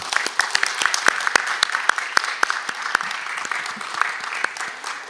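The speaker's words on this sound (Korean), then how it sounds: "함께 감사하는 마음으로 큰 박수 부탁드리겠습니다." A church congregation claps in thanks for the children of the Sunday school classes, a lively run of many hands with sharp individual claps standing out, sustained throughout with faint murmuring beneath.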